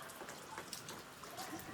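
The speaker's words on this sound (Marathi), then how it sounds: "बाहेर जोरदार पाऊस चालू, एकदम जोरदार पाऊस चालू आहे आमच्या इथं" Heavy rain pours steadily outside, a dense, even hiss of drops on surfaces heard at low level and from a little distance, with no voices.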